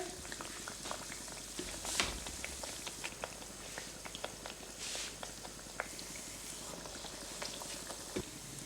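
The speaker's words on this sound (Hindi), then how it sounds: "दोनों साइडों से इसको अच्छी तरह से फ्राई करेंगे दरमियानी आंच पे" Dal kachori deep-fries in oil over a medium flame, with a continuous dense bubbling and crackle and a few sharper pops scattered throughout.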